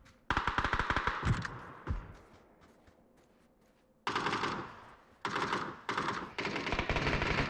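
Bursts of automatic gunfire crackle in a video game match, a dense volley at the start, then a few isolated shots fading into a quieter stretch before several loud, rapid bursts return near the end.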